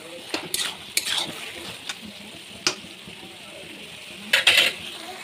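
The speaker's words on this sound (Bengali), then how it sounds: "আদাটা দিয়ে একটু ভালোভাবে আমি লেড়ে নিচ্ছি" A spoon stirs ginger in a frying pan while preparing poppy-seed (posto) curry, scraping and clinking against the metal in a few separate strokes over a low sizzle, close by.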